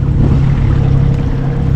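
A sailboat motors along under engine power into a light headwind, its engine a steady low drone mixed with water rush and faint wind, continuous and close with no talking.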